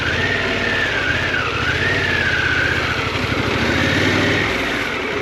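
Harley-Davidson Pan America adventure motorcycle engine running steadily while riding on a leaf-strewn road, a close, continuous low throb with a faint whine rising and falling over it, no talk.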